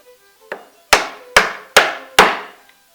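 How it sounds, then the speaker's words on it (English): Wooden mallet striking a chisel to chop a mortise in wood, five sharp, loud, evenly spaced thwacks, each with a short ringing decay, heard alone. "I'm going to keep working down, bringing the chisel closer to the ends of the mortise, cutting down into a V."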